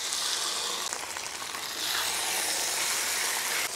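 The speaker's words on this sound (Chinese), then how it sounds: "再煎点不辣的。" Chicken frames and necks fry on a hot iron griddle with a loud, continuous, close-up sizzle. The crackle holds steady throughout and no voices are heard.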